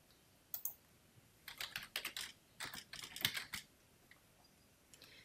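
Bursts of typing on a computer keyboard, quick clusters of light clicks separated by short pauses, close and fairly quiet with no talk.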